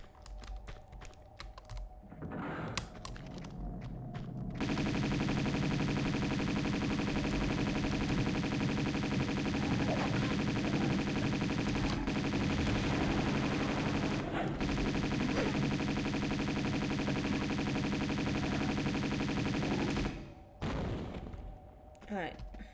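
Rapid automatic Uzi fire in Tomb Raider Remastered, a dense, continuous rattling burst lasting many seconds with brief gaps before and after, loud and close amid game sounds.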